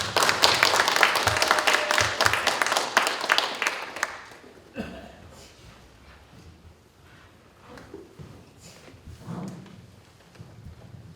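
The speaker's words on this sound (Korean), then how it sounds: "소장님 모시면서 큰 박수 부탁드립니다" An audience at a Catholic parish environmental lecture gives the lecturer a loud burst of clapping that lasts about four seconds, then fades into quiet room noise with scattered soft sounds.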